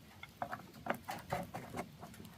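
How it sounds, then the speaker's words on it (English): Rain on a homestead, a faint, irregular patter of scattered drops tapping nearby, quiet and without voices. "It's raining again."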